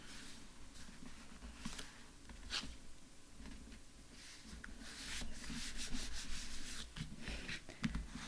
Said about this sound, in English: Use your bone folder, burnish it a bit, get that glue to stick